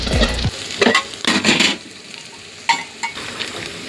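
Sliced onions browning in oil in a pan for egg curry, a sizzle broken by scraping bursts of a spoon stirring against the metal, close and loud with no voices.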